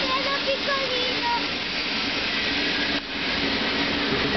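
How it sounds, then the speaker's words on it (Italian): A small regional train, the Milan–Treviglio–Brescia local service, rumbles past with a steady rushing noise, faint voices and tones over it. "Un treno piccolino."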